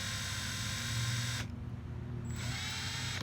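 Power drill whirring steadily as it bores into the metal body of a vintage Matchbox toy car, a loud continuous whine that dips briefly mid-way then resumes at full speed.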